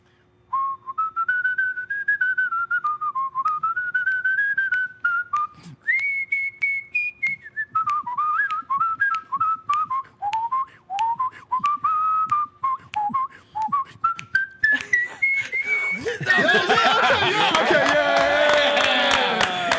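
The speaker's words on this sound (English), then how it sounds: "Does the whistling sound like the blues when you're doing it at a blues club?" A person whistles a bluesy, wavering blues riff with bends and slides, fairly close and clear, ending in a burst of crowd noise or applause.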